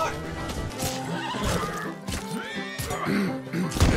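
A horse neighs in Red Dead Redemption 2, loud whinnies with hoof clops and game ambience, while someone talks over it.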